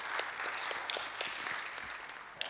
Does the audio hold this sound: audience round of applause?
yes